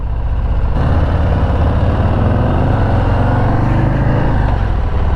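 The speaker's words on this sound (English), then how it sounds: "we're gonna hop on the freeway for an exit or two just to feel what this is like at highway speed" A 2022 Harley-Davidson Low Rider S cruiser motorcycle cruises at highway speed, its engine a loud, steady low rumble blended with dense wind roar that continues without a break, close and alone with no talk.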